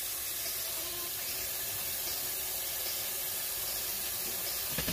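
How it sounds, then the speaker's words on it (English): Hot water runs steadily from a sink tap into a greasy stainless steel pot, a constant broadband hiss and splash with no break or talk. "I got my hot water running because that's what I want to rinse it in, hot water"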